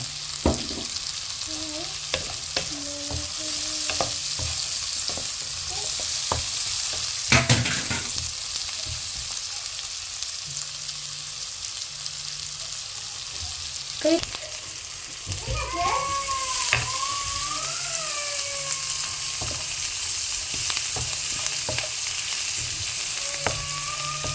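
Sliced onions sautéing in a pan for a Tamil mutton kudal (goat intestine) curry, a steady broadband sizzle with scattered stirring clicks and a few faint background squeaks, close and moderately loud.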